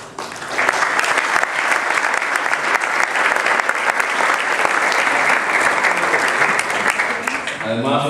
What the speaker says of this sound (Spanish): Para ellos les pido un aplauso.